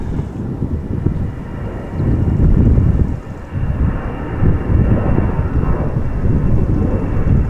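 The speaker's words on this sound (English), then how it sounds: "Got another departure from center." Airliner departing from the center runway at Amsterdam Schiphol, a deep rumbling jet roar with gusty low-end buffeting, loud and sustained, dipping briefly midway before surging again.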